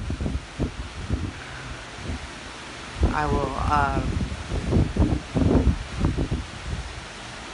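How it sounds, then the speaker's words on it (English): Strong gust of wind during Storm Barry, a slow-moving storm with rising water, rushing and buffeting the microphone in broad, noisy surges that swell after a few seconds, with someone talking over it. "there's a big gust."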